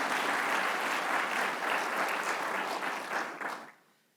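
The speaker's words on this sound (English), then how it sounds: "Yes, we should give them applause." An audience at a UCF Founders' Day honors convocation ceremony breaks into full, dense applause that holds strong for over three seconds before quickly tapering off to silence.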